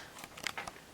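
Scissors snip thread ends on a sewn cloth mask, giving a few quiet, quick crisp cuts close by in a brief burst.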